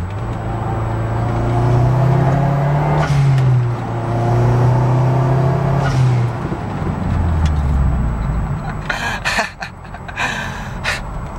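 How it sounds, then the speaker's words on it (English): A Mazdaspeed3 pulls hard through third gear, its engine droning loud and rising in pitch, then a Turbo XS blow-off valve venting to atmosphere lets out several sharp whooshing bursts near the end. "This is a run with the new Turbo XS blow-off valve. Let's hear how it sounds."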